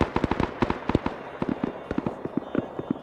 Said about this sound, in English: Is that the mortar firing?